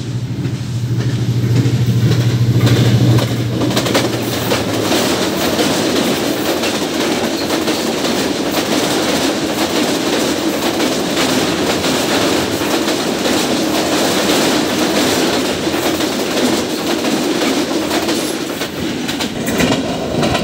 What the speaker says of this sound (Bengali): কত দ্রুত গতিতে ট্রেনটা আসলো এবং চলে গেল